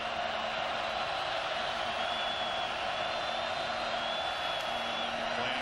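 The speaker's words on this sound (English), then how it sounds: "Here comes the crowd noise, trying to make it tough on Canfield." Steady roar of a football stadium crowd at a college game between Oregon State and Oregon, a dense continuous wash of noise with faint whistling tones, loud and sustained throughout.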